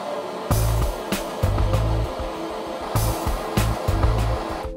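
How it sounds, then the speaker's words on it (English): A torch roars steadily as it preheats a cast iron bell housing before welding it to mild steel, a loud continuous rushing blast with a few brief surges and clanks. "I got to preheat this cast iron and then weld it to the mild steel"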